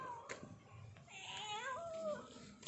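A cat meows several times, a drawn-out, wavering cry that rises and falls, close by, during a feeding of sardine fish heads, with faint background noise.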